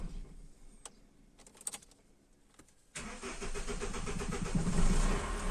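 An Opel Vectra B 2.0 DTI diesel with air in its fuel system cranks after a few faint clicks and catches abruptly, then settles into a loud, steady, rough diesel idle close by.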